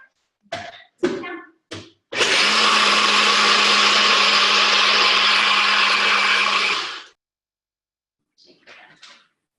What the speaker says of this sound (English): I'll just kind of talk for a second while the blender's going off.